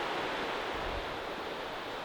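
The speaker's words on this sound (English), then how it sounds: "The river raging down there." A river rushes below an abandoned mountain neighborhood in Tennessee, giving a steady, dense, hissing roar of water with no break and no voices.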